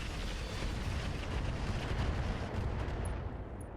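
Mech weapons in a video game fire in a dense, continuous roar of blasts and rumbling explosions, loud and steady throughout with no speech.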